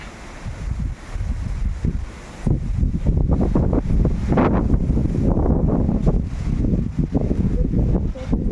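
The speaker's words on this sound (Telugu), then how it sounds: "గాలి" Wind gusting through a village during a power cut, a loud rushing roar that rustles and buffets the microphone steadily, swelling stronger after the first couple of seconds, with no voices.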